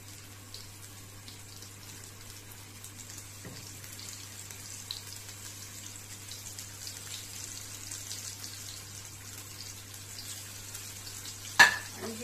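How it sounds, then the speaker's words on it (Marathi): Fish pieces frying in hot oil over a low gas flame, a soft, steady sizzle with a constant low hum beneath and a sharp clatter near the end. "आता आपण एक एक फिश या गरम तेलामध्ये घालूया।"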